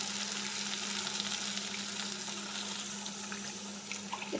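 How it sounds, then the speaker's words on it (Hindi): Water poured into a pan of frying shrimp and potato curry, giving a steady bubbling sizzle and splashy hiss, close and fairly loud, with no talking. "तो इसमें अब हम अपने नीड के अकॉर्डिंग पानी मिला देंगे।"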